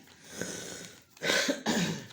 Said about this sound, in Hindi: रीडिंग स्टार्ट की खांसी शुरू।